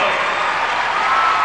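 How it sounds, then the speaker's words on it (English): A figure skating arena crowd applauds a pair's total score, a dense, steady wash of clapping filling the venue from start to finish. "you listen to the crowd reacting to their total score"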